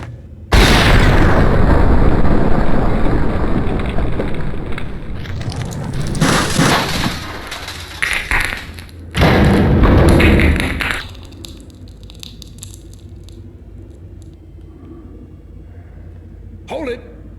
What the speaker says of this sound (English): The bomb.